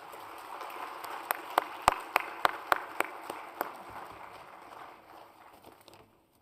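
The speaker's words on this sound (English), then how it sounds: "please join me in a round of applause for your speakers" Audience at a housing summit applauding the speakers: a soft wash of clapping with a handful of sharper individual claps standing out early, gradually thinning and fading to near silence.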